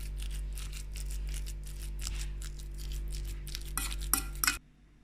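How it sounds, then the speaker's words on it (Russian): A spoon mashes cottage cheese with egg, sugar and vanilla in a bowl for a dumpling filling, giving soft repeated scraping and squelching strokes close up, then a few sharper clinks before it stops. "И вот так все хорошенько разминаю ложкой."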